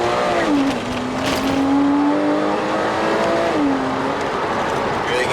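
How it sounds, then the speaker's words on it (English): Porsche Boxster Spyder flat-six engine pulls hard through the gears, a loud close-up howl that rises, drops at a shift and climbs again with steady roar throughout. "Really get to experience that lovely flat 6 sound."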